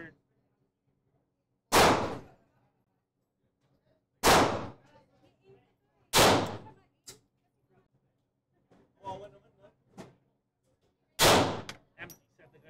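Gunshots at a shooting range, four loud sharp single reports spaced a couple of seconds apart, with quieter clinks and handling sounds between them and some talk nearby.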